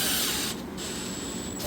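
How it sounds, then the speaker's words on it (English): A Milwaukee drill driver runs during a white oak kitchen remodel, giving a short, steady high whine for about a second over a noisy indoor background. "Let's see how that guy works right there,"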